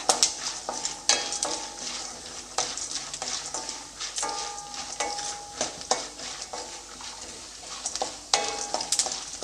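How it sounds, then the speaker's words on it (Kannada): Peanuts and chana dal frying in a pan, a steady sizzle broken by frequent scraping stirs and light metallic clinks of a spoon against the pan, close and alone with no talk. "ಚೆನ್ನಾಗಿ ಸ್ವಲ್ಪ ಫ್ರೈ ಮಾಡ್ಕೊಳ್ತೀನಿ ಇದು ಶೇಂಗಾ ಬೀಜ ಮತ್ತು ಕಡಲೆಬೇಳೆ ಸ್ವಲ್ಪ ಬ್ರೌನ್ ಕಲರ್ ಬರಬೇಕು"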